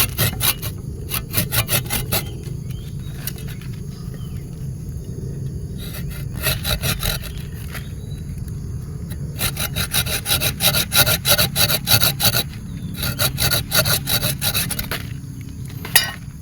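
A hand saw cuts through a thick Jamaican guava tree trunk in repeated rasping strokes, bursts of back-and-forth scraping separated by short pauses, close and fairly loud.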